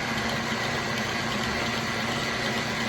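In a workshop with a 1947 lathe, an air compressor runs with a constant, loud mechanical drone and hum that holds steady throughout, with no breaks or talk.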